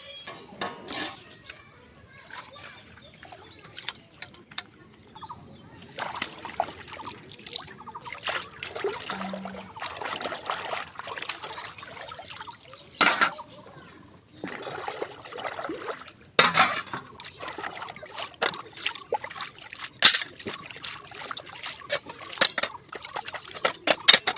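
Water trickles intermittently while being filled from a water filter in a home kitchen, soft and close, mixed with clinks of dishes and utensils and scattered sharp knocks.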